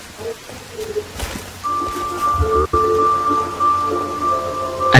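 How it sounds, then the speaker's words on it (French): Heavy rain falls in the survival game The Forest: a steady, moderate hiss under a sustained droning tone, with a few soft knocks. "Ah par contre ça pleut bien."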